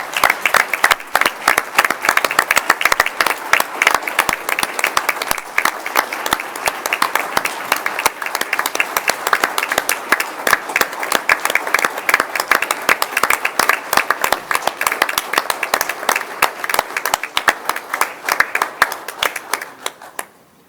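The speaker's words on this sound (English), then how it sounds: "Would you join me in a round of applause for Chuck Adcox and his family?" An audience at a school district board of education meeting claps loudly and steadily for about twenty seconds, a dense crowd of hands that holds close and full before tapering off at the very end.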